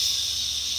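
A voice imitates wet hair sizzling under a hot styling tool, giving a short, steady, airy hiss that stays even throughout.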